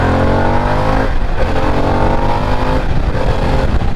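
A 2024 Harley-Davidson Pan America engine revs loud and close, its pitch climbing, dropping at a gear change, then climbing again.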